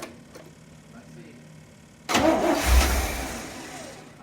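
A 1979 Corvette with an L82 V8, cold and primed, cranks and catches about halfway through with a sudden loud roar, then settles toward a raised idle. Quiet background precedes the start.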